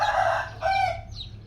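A young rooster crows close by, a short, loud call that trails off with a faint final note, heard alone without talk.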